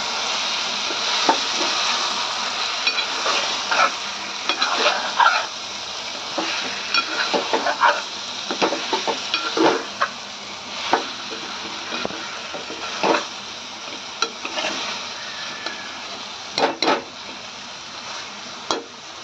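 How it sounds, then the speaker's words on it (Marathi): Ground masala paste frying for chicken in a pot, heard as a continuous loud sizzle broken by frequent stirring scrapes and clacks against the metal, close up and steady throughout with no talking. "आणि आता मसाला घालून तोही छान असा परतून घ्यायचा आहे आपल्याला."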